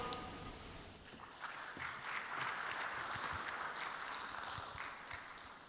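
A faint, sustained wash of audience applause after a speech at the launch of a vocational training program, steady and distant throughout without any talk.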